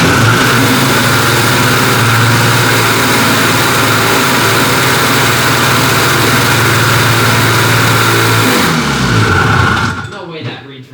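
A snowmobile engine idles very high, a loud, steady mechanical drone close by that holds for most of the span before cutting out near the end.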